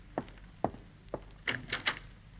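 Front door of a house opening to let in a visitor, heard as a few dull thunks and knocks followed by brighter latch clicks and rattles, close by with no talk.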